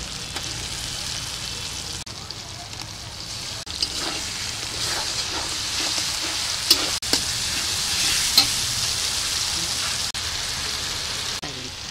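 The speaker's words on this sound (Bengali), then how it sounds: "যে মশলার পেস্টটা রাখা আছে সেটা আমি পুরোটাই দিয়ে দেবো" Masala paste sizzling in a pan for chicken kala bhuna, a steady bright frying hiss with repeated scraping stirs and occasional sharp clacks, close up, with brief talk.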